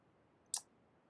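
A single sharp computer mouse click, close and isolated against quiet background hiss, with no talking.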